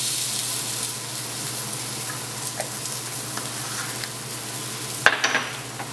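Onions and garlic sizzle steadily in a pan, a soft continuous frying hiss with a few light stirring clinks and a sharper clatter near the end.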